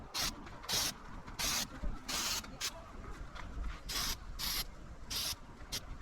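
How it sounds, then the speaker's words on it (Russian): Electric arc welding on a coilover spring for a Toyota Camry 40, heard as a series of harsh crackling, sputtering bursts, each under a second, separated by short pauses over a low background. "Это электрическая сварка."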